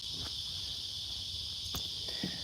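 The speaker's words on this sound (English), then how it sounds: "Can you hear all those cicadas?" Cicadas buzzing in warm, steamy weather, a continuous dense high-pitched drone filling the background with no talking.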